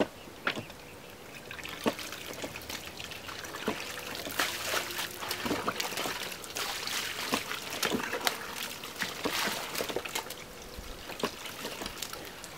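Water from a pump and hose at a campsite, a steady trickling splash broken by irregular louder spatters and drips, close by with no talk.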